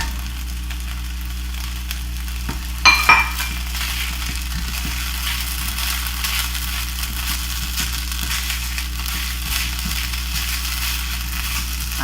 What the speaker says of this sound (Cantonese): 就將嗰啲冬菇嗰啲雜菜粒呢倒埋落去一齊煎啦。